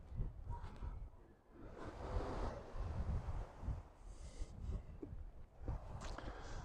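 Breeze buffeting a camera microphone at a harbour in Port de Soller, Mallorca, producing irregular low rumbling gusts with hissing surges, fairly faint overall and with no one talking.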